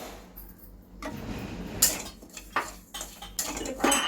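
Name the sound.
shyama rice being dry-fried and stirred in a pan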